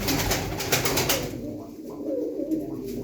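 Breeding pigeons coo softly nearby in a loft, a few low rounded calls following an initial burst of rustling and shuffling.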